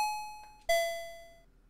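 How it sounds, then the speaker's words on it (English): A two-tone electronic doorbell chimes ding-dong in a video game, clean and alone, with the second ringing tone lingering and fading out over about a second. "Ding dong. Somebody's at the door."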